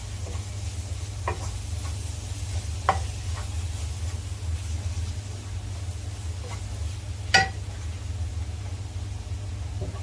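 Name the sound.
stirring venison roast with spices in a pan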